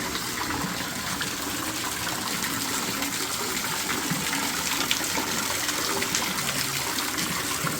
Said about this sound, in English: It's so relaxing to hear the waterfall.